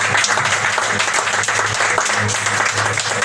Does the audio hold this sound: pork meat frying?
no